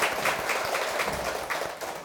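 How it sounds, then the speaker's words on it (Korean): An audience at a Buddhist meditation lecture claps together in a brief, dense burst of applause heard up close, with no talking over it. "박수 한번 쳐볼까요?"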